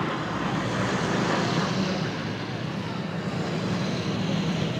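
An aircraft passes overhead at the Comox airshow with its flaps down, giving a loud, broad, steady engine roar that spans the whole stretch with no break.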